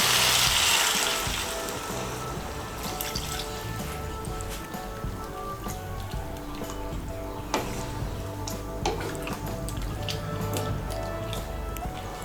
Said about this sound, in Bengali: এখন এর মধ্যে আমি দিয়ে দেব জল।